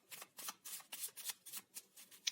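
Tarot cards riffled and drawn from a deck in rapid bursts, about ten crisp papery flicks in a steady rhythm, close and fairly quiet with no voices.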